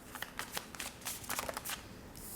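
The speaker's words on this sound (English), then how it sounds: "let me shuffle this one" A deck of animal guidance oracle cards is shuffled by hand at close range, giving a run of quick papery riffles and flicks with short pauses between bursts.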